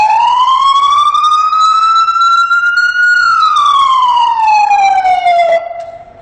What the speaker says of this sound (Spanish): El día de hoy te voy a explicar los tonos de la sirena que nosotros usamos en nuestra ambulancia.